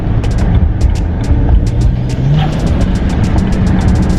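A car running on E85 fuel drives along smoothly, giving a loud, steady engine and road drone with faint ticking sounds repeating above it.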